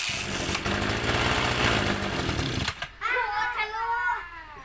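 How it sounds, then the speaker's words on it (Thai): A small engine with a carburetor being tested revs at high, steady speed, loud and buzzing, then cuts off abruptly, after which voices talk over a quieter background. "เร่งเครื่องอีกหน่"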